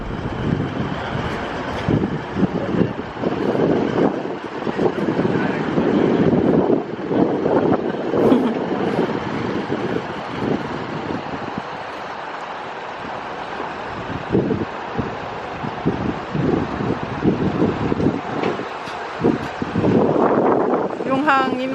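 Cold wind gusting into the microphone, a rough buffeting roar that swells and fades throughout, mixed with scattered background voices and rustling.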